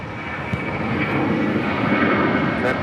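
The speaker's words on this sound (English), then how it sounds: "of Swiss Flight 40 coming in from Zurich and a 777-300ER" A Swiss Boeing 777-300ER jet arrives from Zurich at Los Angeles International Airport, its broad, steady engine roar swelling slightly as it comes in, heard from a distance with no voices.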